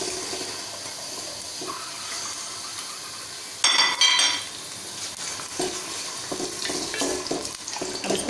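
Mutton sizzling as it fries in a pan for a spinach dish, a steady close frying hiss with occasional stirring scrapes and clatter.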